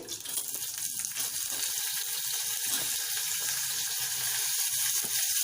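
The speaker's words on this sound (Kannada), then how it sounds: "ಈರುಳ್ಳಿ ಸ್ವಲ್ಪ ಕಲರ್ ಚೇಂಜ್ ಆಗೋವರೆಗೂ ಫ್ರೈ ಮಾಡ್ಕೊಳ್ಳೋಣ" Sliced onions sizzling in hot oil over a tempering of spices for a tondekai curry, a steady close hiss and crackle with no talk.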